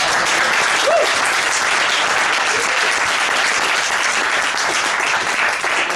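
Sustained, dense applause from an audience at a university AMA Club sales competition event fills the whole stretch at a steady, loud level.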